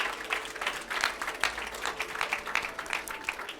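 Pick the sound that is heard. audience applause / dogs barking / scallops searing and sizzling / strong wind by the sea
audience applause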